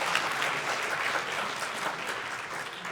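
Applause from a conference audience after a live demo at a frontend architecture talk, a steady dense clatter of many hands filling the whole three seconds at moderate loudness, with no voices over it.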